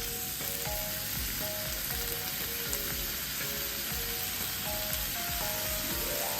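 Oil heating and starting to fry in a pan for beef bulgogi, a steady close sizzle and crackle throughout, with faint tonal beeps from an appliance in the background.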